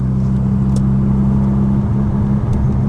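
A 480bhp Mazda RX-7 pulls hard in second gear, its engine holding a loud, steady low drone close by throughout, with brief sharper bursts on top and no talking.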